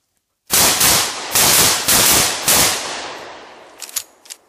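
Mossberg 930 semi-automatic shotgun fired in a fast string of four loud, close blasts about half a second apart, each with a long ringing decay, followed by faint metallic clicks and handling noise.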